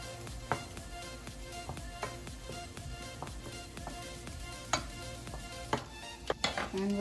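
Chopped mushrooms cooking in a pan for an eggplant steak dish, a quiet sizzle under intermittent scraping and clinking of a utensil against the pan.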